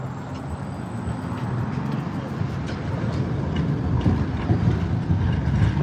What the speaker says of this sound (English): Warsaw trams.